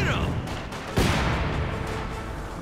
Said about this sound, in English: Mortar rounds falling all over the place